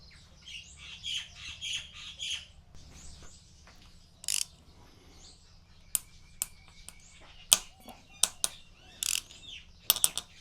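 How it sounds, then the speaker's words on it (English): A 6mm hex key works loose tight handlebar bolts on a Royal Enfield Super Meteor 650 motorcycle, with squeaky creaking first and then a run of sharp, close metallic clicks and snaps. "Then it's simply a 6mm hex key to undo them."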